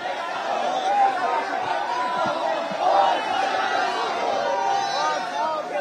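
NCP party workers gathered outside the YB Chavan Centre cheer in celebration, a dense, loud crowd roar of shouting and chatter that holds steady throughout with no pauses.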